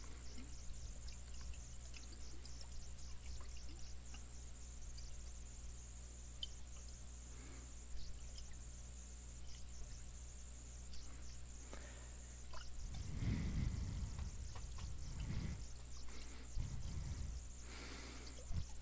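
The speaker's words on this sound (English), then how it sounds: "You're finding this soda shaking to be relaxing." A can of soda is shaken close up, making a soft, continuous fizzy rustle with muffled sloshing thumps in the later part.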